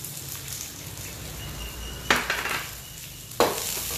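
Beef with onions and ginger is stirred in a pan over low sizzling, with two sharp metallic clanks of the utensil against the pan standing out above the quiet frying.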